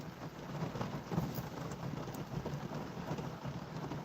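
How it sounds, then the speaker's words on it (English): Heavy rain pours onto a car in Los Angeles, a dense, continuous drumming and hiss heard from inside, steady and fairly loud throughout with scattered sharper drop impacts and no talking. "It's raining hard on my car right now."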